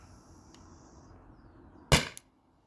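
A Byrna SD launcher fires a single sharp, loud pop over a chronograph, a crisp burst with a brief tail after a stretch of quiet room hiss.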